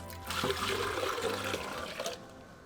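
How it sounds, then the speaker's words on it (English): About four cups of water pour into a stock pot of broth for chicken meatball soup, a short, close rushing splash that tapers off after two seconds. "we're going to also add about 4 cups of water"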